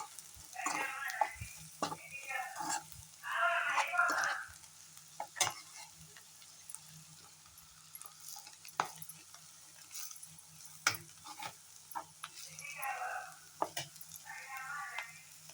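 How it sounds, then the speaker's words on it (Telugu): Broad beans fried with chilli powder in a pan on the stove give a quiet sizzle, broken by repeated scraping and clicking bursts as a spoon stirs them, with no one talking. "1 స్పూన్ కారం వేసి ఒక 2 మినిట్స్ ఈ కారం ముక్కలకు పట్టేలాగా ఒక 2 మినిట్స్ ఫ్రై చేసుకొని స్టవ్ కట్టేద్దాం."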